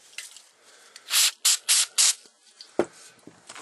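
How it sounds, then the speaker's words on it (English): Carb cleaner sprayed from an aerosol can into the corner of a rag, heard as four short close hissing bursts in quick succession, with small handling clicks and rustles before and after. "I'm going to go ahead and just spray a little bit more carb cleaner into a corner of this towel"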